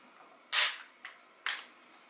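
Sharp metallic snaps from the hammer of a Marswell Model 1914 12-gauge shotgun dry-firing during a cycle test: two crisp clicks with a softer one between, close and isolated in a quiet room.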